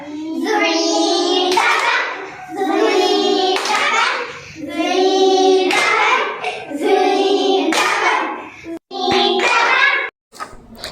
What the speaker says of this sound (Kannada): ದುಂಬಿ ಚಪ್ಪಾಳೆ ಹಾಕ್ಸೋದು ಹೇಗೆ ಅಂತೇಳಿ ವಿಡಿಯೋ ಇದೆ